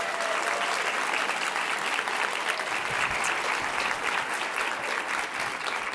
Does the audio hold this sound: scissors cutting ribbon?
no